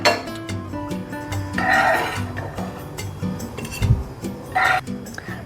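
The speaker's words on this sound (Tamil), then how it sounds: "இதை நம்ம எல்லாத்தையும் எடுத்து பிளேட்டில் வச்சுக்கலாம்" Fried taro root pieces are scooped from a hot pan onto a plate, with a scatter of metal clinks and scraping knocks from the utensil against the cookware, moderately close and loud.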